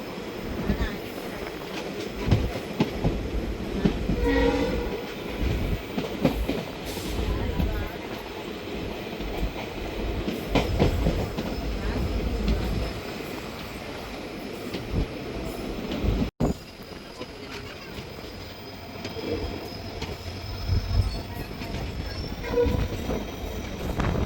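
A train pulls into Tiruppuvanam railway station, a steady rumble of wheels and carriages with rattling clatter, brief squeals and a horn-like tone, continuous and fairly loud throughout.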